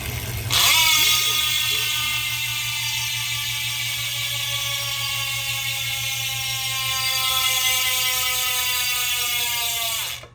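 A rapid, buzzing ratchet clicking from a spinning bicycle freehub on Elves Falath Evo wheels runs continuously for about ten seconds, loud and close, slowly fading toward the end.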